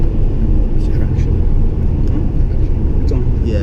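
A Lexus RC F sports car driven with traction control on, its engine giving a loud, close, continuous roar and rumble from inside the cabin for a few seconds.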